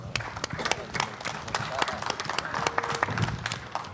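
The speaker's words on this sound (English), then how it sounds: "That was one of those really reluctant claps, wasn't it?" A boxing press conference crowd at Madison Square Garden gives thin, scattered, half-hearted clapping for a promoter. The brief patter sits under someone talking over a microphone.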